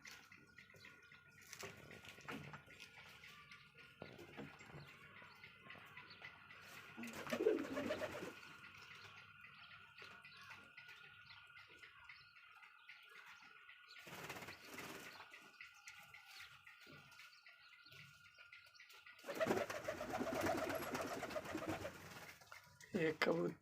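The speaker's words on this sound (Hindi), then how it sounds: "ये कबूतर" Pet pedigree pigeons, kept alongside rabbits, coo in soft repeated bursts, close by, with occasional wing flaps and rustling in the enclosure.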